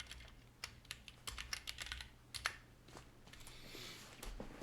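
Computer keyboard typing while renaming a part in CAD software, a short burst of quick, light key clicks, close and quiet over a low steady hum.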